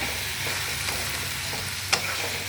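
Onions sizzle softly as they sauté in oil in a pan, a steady gentle frying hiss with light stirring scrapes and one brief utensil clink near the end.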